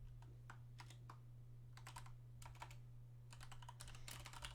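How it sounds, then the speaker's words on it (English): Someone types on a computer keyboard in irregular bursts of quick, light clacks and short pauses, heard close over a constant low electrical hum. "I started typing it, but I couldn't follow it all while typing"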